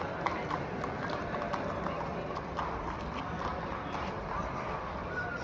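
Horse hooves clip-clop on pavement in Austria, a steady run of close, rhythmic hoofbeats over street noise with voices murmuring in the background.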